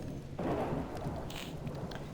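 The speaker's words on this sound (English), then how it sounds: "That is still a nice looking storm to have happening at the moment" A storm rumbles in the survival game Subsistence, with low thunder and rain noise swelling after a quiet start, then a steady wash with a faint crackle near the end.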